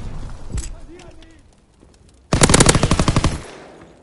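Bursts of rapid automatic gunfire from a PS4 shooter game: a short shot early on, then a loud sustained machine-gun burst lasting about a second, with game noise in the quieter gaps.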